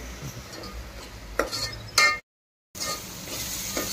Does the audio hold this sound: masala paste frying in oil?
yes